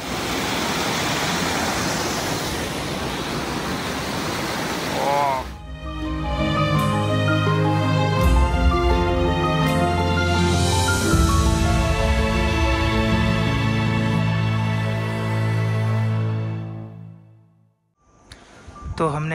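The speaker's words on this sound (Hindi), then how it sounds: "वाटरफॉल से शायद पानी आ रहा है इधर।" Steady broadband rush of flowing water from a nearby waterfall in the mountains near Tawang, Arunachal Pradesh, continuous throughout with voices talking over it in the middle stretch.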